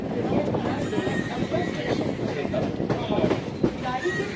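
A passenger train rolls along after departing Dholpur station in India, steady rumbling and rattling of the carriages throughout with occasional clacks, heard from inside while a person talks over it.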